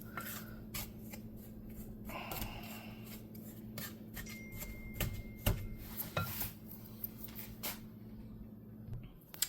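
Cupcake batter with butter being mixed by hand with a spoon: repeated soft scraping and clinking taps of the spoon against the bowl at an uneven rhythm, close by, over a low steady hum.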